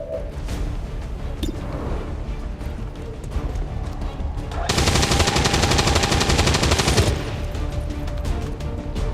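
Automatic gunfire rattles through a firefight in XCOM 2: War of the Chosen, scattered bursts and impacts early on, then a loud, dense sustained burst lasting about two seconds before the shooting thins out again.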